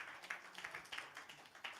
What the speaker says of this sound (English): Let's give him a round of applause as he makes his way up here to the front.